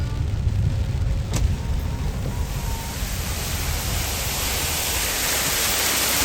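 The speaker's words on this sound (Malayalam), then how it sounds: "നമ്മളിങ്ങനെ പോകുന്ന വഴിക്ക് അതാ വെള്ളച്ചാട്ടം" A waterfall beside a road on the way toward Moolamattam and Thodupuzha, a steady broad rushing roar that swells slightly as it goes on, heard from a passing vehicle.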